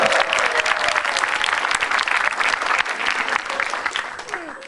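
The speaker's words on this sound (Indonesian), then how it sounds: "Tepuk tangan buat lu semua" A stand-up comedy audience applauds, dense clapping rising and falling over several seconds.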